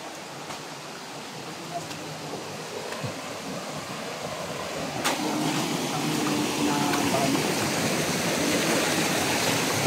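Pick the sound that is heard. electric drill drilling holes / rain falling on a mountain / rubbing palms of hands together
rain falling on a mountain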